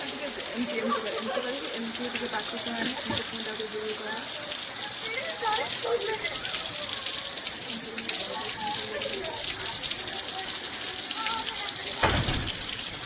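Steady heavy rain pours down, a continuous dense hiss of water throughout, with faint voices now and then underneath.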